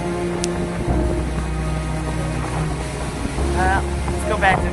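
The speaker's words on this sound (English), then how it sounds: "Lake Huron is angry today. Look at these waves." Rough, storm-driven waves on Lake Huron pound steadily beneath gale-force wind buffeting the microphone, a loud continuous low roar with gusting surges, while a voice speaks briefly over it.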